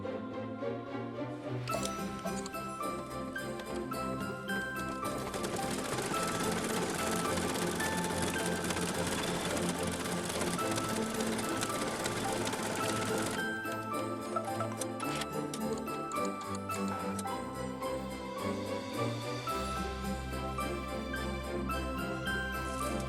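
An embroidery machine stitching folded cuff fabric onto a small in-the-hoop Christmas stocking, a rapid, steady mechanical ticking and whirring that runs continuously and close by, with a busier, denser run in the middle.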